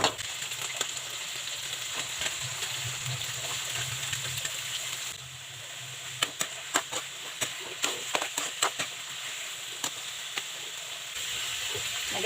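Steady sizzling of tenderized pork frying in a hot pan for caldereta, with a run of sharp stirring clatters and pops partway through.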